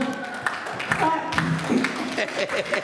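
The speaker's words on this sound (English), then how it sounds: "Let's give a warm clap." Warm applause at a multicultural end-of-year family dinner, scattered moderate clapping from the gathered crowd mixed with voices and chatter.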